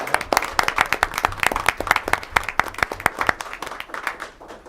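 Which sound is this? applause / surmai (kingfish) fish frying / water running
applause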